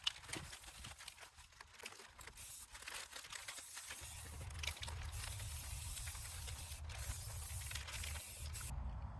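A steady hiss of spray paint onto a craft beehive runs almost continuously for several seconds, with a few brief pauses and a low rumble underneath.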